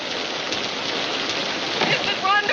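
Steady rain pours throughout a film scene, a constant broadband hiss with a slight swell near the end, while people talk over it.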